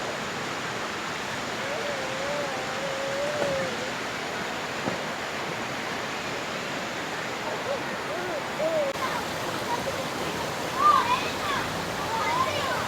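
A river flows beside a campsite with a steady, broad rushing roar that fills the whole stretch at constant loudness, while voices are faintly heard over it.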